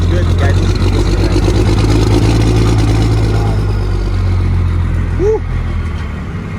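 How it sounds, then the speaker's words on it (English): An old 12-valve diesel truck engine rumbles steadily and loudly up close outdoors, a deep clattering idle with a voice speaking over it. "now that we have the truck fired up outside"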